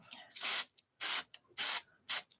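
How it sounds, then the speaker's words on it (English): Spray paint is applied to the back of a small box in four short bursts, each a loud close hiss lasting about a quarter second, separated by brief quiet pauses. "I think I'll spray it on the back a little bit more."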